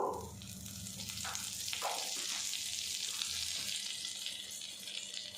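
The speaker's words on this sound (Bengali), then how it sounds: "এখানে একটা কড়া গরম করে নিয়েছি, আর সামান্য পরিমাণে বাটার দিয়ে দেব।" Butter sizzling in a hot kadai, a steady close frying hiss throughout with a few brief clinks and stirring sounds, no talking.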